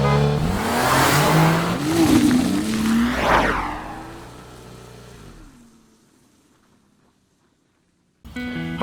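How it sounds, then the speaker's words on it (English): 1973 Porsche 914 mid-engined roadster driving and accelerating, a loud engine revving up through the gears, then fading away into near silence before a brief burst of noise at the end. "this is my 1973 Porsche 914."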